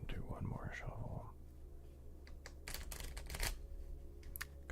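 Soft shuffling during a live ASMR session, heard close and quiet after a brief whispered voice at the start. A few crisp rustling bursts come in the middle, then it settles back into low room noise.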